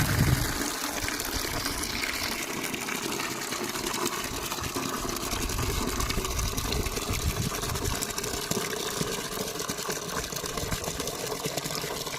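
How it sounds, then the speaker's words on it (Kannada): Steady gushing water runs continuously, loud and close, filling something for buffaloes to drink without pause; no voices. "ಈವ್ನಿಂಗ್ ಟೈಮ್ ನೋಡ್ರಿ ಎಮ್ಮಿಗಳಿಗೆ ನೀರು ಕುಡ್ಸಾಕ್ತೀನಿ ನಾನು"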